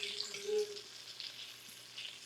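Steady sizzling and crackling of chicken frying in a pan, close and continuous, with a soft clink partway through.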